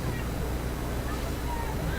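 Steady wind roars and buffets the microphone throughout at an outdoor girls' high school soccer game in Manhattan, a dense, constant rumble with no clear pauses.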